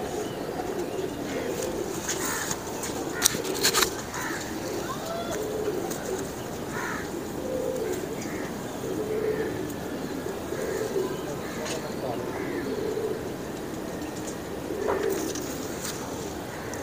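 Soft, low pigeon coos repeat in a slow, regular rhythm against a faint outdoor background, with occasional rustles and brief clicks.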